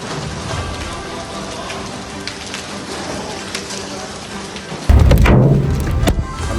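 Large hailstones fall hard during a severe storm in Islamabad, a dense, continuous patter of impacts that grows suddenly louder and heavier near the end, with no voices heard.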